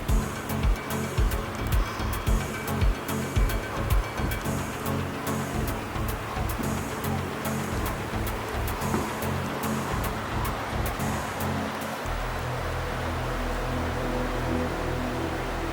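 Swift, rushing water of the Pemigewasset River in a New Hampshire gorge, a steady, dense roar that holds close and loud throughout with no voices.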